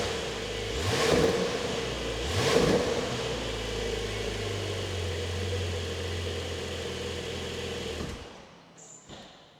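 A Porsche 911 992 GTS with PDK gearbox cold-starting, two sharp revving bursts flaring up before the engine settles into a high, steady idle that then cuts off near the end.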